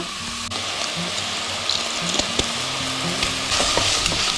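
Garlic and ginger sizzle in a pot for pumpkin soup, a steady close frying hiss broken by a few light knocks of stirring.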